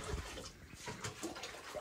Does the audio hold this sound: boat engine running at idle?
no